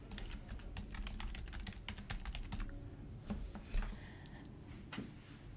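A password being typed on a computer keyboard during a Chess.com sign-up, a rapid burst of close, crisp key clicks followed by a few slower, separate taps in a quiet room.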